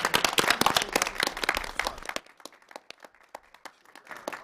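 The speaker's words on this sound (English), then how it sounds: "Round of applause for our panel." Roundtable attendees clap for a panel: a burst of loud, close applause that cuts off abruptly after two seconds, leaving a few scattered individual claps trailing on.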